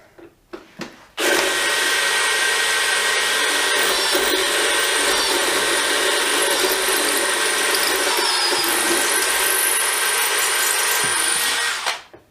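A DEWALT 12V brushless DCD701 drill bores into a tough block, a few short bumps before the motor kicks in and holds a loud, steady high whine for about ten seconds before cutting off abruptly.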